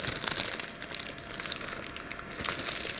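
Plastic bag crinkling close by during a nail wrap application, a steady run of crisp rustles and crackles with a few sharper crunches, no speech.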